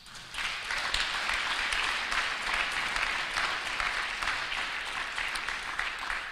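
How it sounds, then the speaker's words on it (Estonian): A crowd at a festive awards ceremony for Ida-Virumaa companies of the year claps steadily for the winners and nominees, a dense sustained applause with no talk over it. "Veel kord suur aplaus kõigile võitjatele ja nominentidele."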